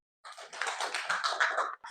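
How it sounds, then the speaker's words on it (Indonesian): A short burst of applause from a classroom group, steady clapping for about a second and a half in a quiet room. "kasih tepuk tangan juga untuk kelompok 2"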